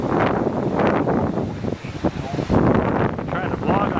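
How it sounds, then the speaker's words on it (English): Strong 60-mile-an-hour wind gusts buffet the microphone outdoors amid storm damage in Overland Park, a loud continuous rumbling roar that surges and dips over several seconds, with a voice talking faintly underneath. "We got 60-mile-an-hour gusts down."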